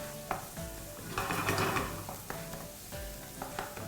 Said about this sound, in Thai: กระเทียมที่เรามาผัดกับน้ำมันเนี่ย